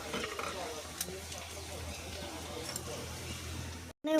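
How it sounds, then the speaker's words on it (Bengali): Meat being mixed with spices and oil in a pan for mangalsutra tarkari, a low sizzle and stirring under faint background voices and room noise, cutting off briefly near the end. "মশলাপাতি মাংস আর তেলের সঙ্গে মিশিয়ে নিচ্ছে।"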